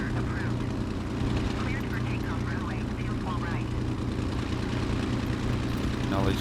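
Messerschmitt Bf 109G-6 piston engine in Microsoft Flight Simulator 2020, a steady, loud droning hum running throughout the takeoff with an even harmonic rumble, while faint radio-like voices chatter over it.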